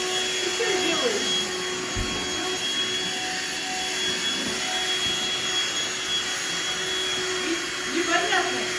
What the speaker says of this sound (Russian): Связано ли это с работой пылесоса?